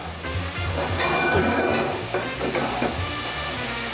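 Butter sizzles and spatters in a very hot oiled pan, a dense, steady frying hiss with occasional stirring scrapes, close and fairly loud throughout.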